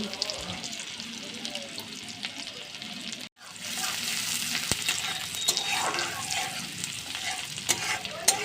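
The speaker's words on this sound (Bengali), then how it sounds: "এবারে পেঁয়াজ কুচিটাকে ভালোভাবে কিন্তু ভেজে নেবো" Chopped onions fry in oil with cumin seeds, giving a steady sizzle under regular scraping strokes as they are stirred, with one brief near-silent break before the frying resumes.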